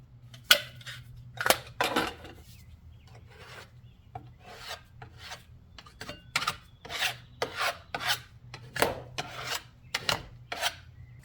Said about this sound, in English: we want to go in and fill these nail and screw holes and smooth them out so they dry.